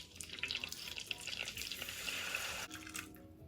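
Whole milk pours into melted butter in a cooking pot for no-bake peanut butter oatmeal cookies, a steady close hiss and gurgle of liquid lasting about two and a half seconds before it stops.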